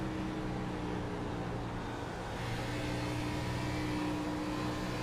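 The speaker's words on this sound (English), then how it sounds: "listen to the throttle as it comes in the exit and end the entry" Race car engine at Dover easing back onto the throttle on corner exit, a loud, steady droning roar with strong low harmonics that builds slightly in the second half, heard alone without talk.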